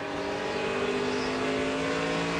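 NASCAR stock cars race around the track at the 2005 Chevy American Revolution 400, a dense, steady roar of several V8 engines at full throttle, loud and continuous with no pauses.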